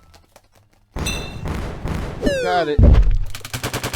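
Heavy rumbling booms and crashes like a cave-in or explosion near a cave entrance in the video game Ocean's Heart, layered with clattering impacts and a rising tonal sweep; a voice speaks briefly.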